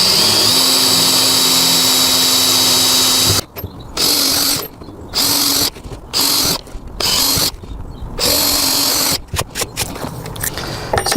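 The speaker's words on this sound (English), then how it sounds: "Let's drill these holes out and then we'll countersink them afterwards on the underside." A power drill whirs loudly in a long continuous run, then in a series of short bursts with brief pauses between them, drilling holes in a scaffold board tabletop.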